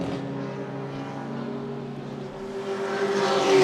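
Racing engines drone steadily at a circuit, a B-tuned BMW and a fast qualifying car among them in a Queensland race, one engine note rising louder toward the end with no talk over it.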